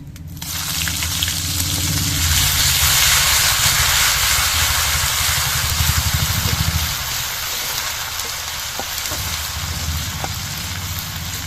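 Ginger paste dropped into hot mustard oil with panch phoron spices, bursting into a loud, close, hissing sizzle that settles into a steadier frying crackle, with no voices.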